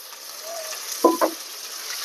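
Fresh coriander and mint leaves frying in a pan for a bobbarla gudalu snack, making a soft, steady sizzle with a couple of brief stirring scrapes partway through.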